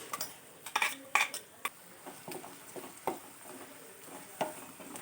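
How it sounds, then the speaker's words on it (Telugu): Onions cooked with ginger garlic paste and masala get stirred in a pan for a mushroom curry, making a quiet sizzle broken by irregular sharp clinks and scrapes of a spoon against the metal. "అల్లం వెల్లుల్లి పేస్ట్ మసాలా వేసుకొని బాగా కలుపుకోవాలి"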